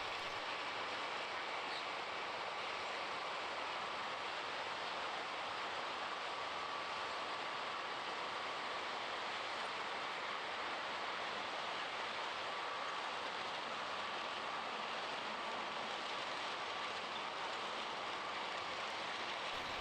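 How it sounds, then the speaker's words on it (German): A ballast cleaning machine train hauled by a Vossloh DE 18 diesel locomotive works a track bed on the Kinzigtal line, giving a steady, distant, hissing rumble of machinery and rail noise that holds unchanged with no voices. "Mit diesem Zug wird das Gleisbett gereinigt."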